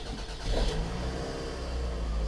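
A 2002 Toyota Camry with 217,000 miles on it cranks briefly and catches, then settles into a steady, close idle with a low, even engine hum and no voices.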